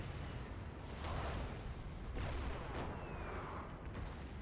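Cannon fire in Napoleon: Total War booms as repeated dull, distant blasts over a constant rumbling battlefield din, about three heavy bursts spread across a few seconds.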